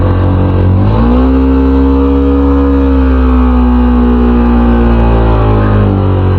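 Hero Xpulse Pro motorcycle engine labouring uphill in second gear, a loud steady drone that rises in pitch after the shift and holds a strained, rising note throughout, with no talk.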